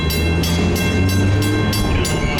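A CN freight train led by locomotives 4908 and 4902 pulls away in Princeton, Ontario, a loud, close diesel rumble with steady engine tones and a regular pulsing beat, heard alone without talk.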